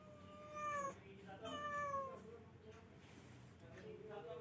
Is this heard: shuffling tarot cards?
no